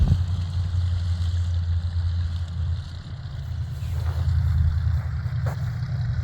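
A 1959 Bombardier narrow gauge vehicle idles and pulls in, giving a steady, close low engine rumble with a humming drone that dips briefly, then swells slightly as it moves.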